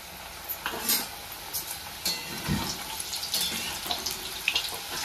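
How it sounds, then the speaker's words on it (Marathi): Shankarpali dough pieces made from maida drop into hot oil and fry, a bubbling sizzle broken by splashy bursts and a few light clinks, close and moderate in level, no speech. "तेल तापलेलं आहे तर आपण ही आता टाकून घेऊया त्याच्यावर।"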